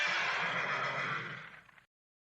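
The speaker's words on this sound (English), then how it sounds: "there's the horses" Horses neigh in a single long whinny that lasts almost two seconds and tapers off before the clip falls silent.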